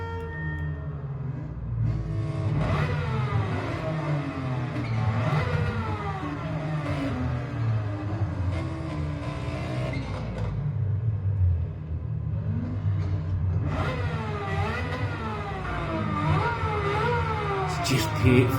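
A tuned older car in Gran Turismo 7, driven around Grand Valley, revs up and down repeatedly through gear changes over a constant low engine rumble, loud and close with some voice talk mixed in.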